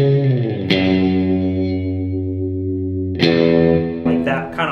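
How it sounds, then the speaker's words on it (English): Sustained electric guitar chords with a wavering vibrato and a wide, lingering reverb tail; two strums, the second followed by lighter picked notes. "I've got some vibrato going on, and then honestly just a lot of reverb"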